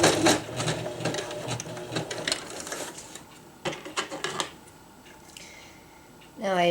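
A sewing machine stitches 1-inch poly tree strap webbing in continuous bursts for about four seconds, then quiets before a brief whirring pass near the end; a voice speaks over parts of it.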